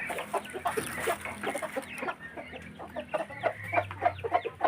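Texas chickens, hens sitting on their eggs, clucking in short repeated soft calls, close and fairly quiet, with steady rhythmic clucks gathering toward the end.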